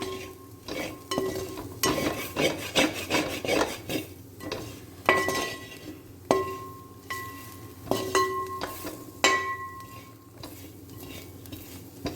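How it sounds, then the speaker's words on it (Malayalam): Pork for a Kerala-style roast is stirred in a pan with crushed chilli and pepper, a metal spoon scraping and clinking repeatedly against the pan over a soft sizzle, close and without talk. "നമ്മൾ നന്നായി ഇളക്കി കൊടുത്താൽ മതി"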